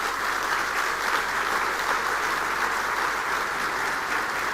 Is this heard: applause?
yes